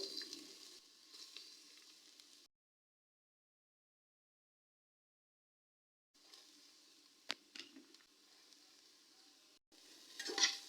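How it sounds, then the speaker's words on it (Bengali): Grated carrots fry on a low flame for carrot halwa, giving a soft, quiet sizzle with stirring scrapes, which drops to silence for several seconds before the gentle frying resumes. "আমি একদম লোতে রেখে আমি গাজরগুলোকে ফ্রাই করে নিচ্ছি"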